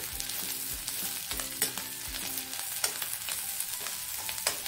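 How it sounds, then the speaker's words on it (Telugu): Chopped onions and green chillies sizzle steadily in a pan over low to medium heat, a dense continuous frying hiss broken by occasional stirring scrapes. "పచ్చిమిర్చి కానీ చక్కగా ఫ్రై అయ్యేలా చూడండి"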